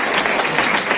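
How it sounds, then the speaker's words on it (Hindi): A crowd claps loudly at a coaching class results ceremony in Sahebganj, a dense, continuous burst of applause lasting about a second. "इनके एक बार जोर से ताली बजाइए।"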